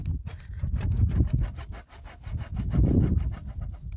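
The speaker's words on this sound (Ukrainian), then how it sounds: "Тепер беремо і все це спилюваємо." A hand saw cuts through a green tree branch during bud grafting, with rapid, close, rhythmic rasping strokes back and forth and a brief pause midway.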